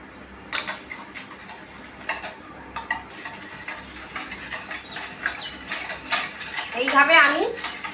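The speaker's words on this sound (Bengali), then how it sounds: "এইভাবে আমি বেশ ভালো করে ফেটে নেব।" Lassi whisked by hand in a bowl, with steady clinking and scraping strokes against the bowl that grow busier toward the end, and faint bird chirps in the background.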